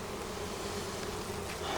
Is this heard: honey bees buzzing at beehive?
yes